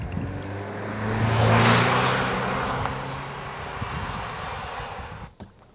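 A Nissan Qashqai driven hard along mountain roads gives a rising engine roar that swells to a loud peak, then settles into a steady driving drone, with no talk over it.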